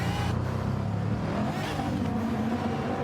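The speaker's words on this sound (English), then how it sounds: "O'Reilly in that loud, grumbly Bugatti." A loud, grumbly Bugatti race car engine in an endurance racing video game drones steadily, with other cars' engines mixed in around it and no talking.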